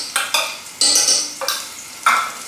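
Aromatics and laksa paste sizzle and spatter in a hot pan, with stirring scrapes; loud and close, swelling and fading every half second or so.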